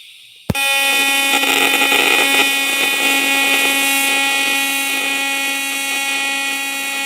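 TIG welding magnesium, starting with a sudden click as the arc strikes, then a steady loud buzzing hum with a harsh tonal whine that holds without a break to the end.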